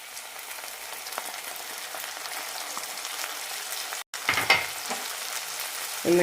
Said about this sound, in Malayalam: ഇനി ഇതിലേക്ക് തക്കാളി അരച്ചതിടാം